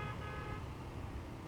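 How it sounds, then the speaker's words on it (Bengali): A hydraulic horn on a budget motorbike blares in one steady, loud, unbroken honk over engine and road rumble on a partly broken road between Rangamati and Bandarban. "hydraulic horn"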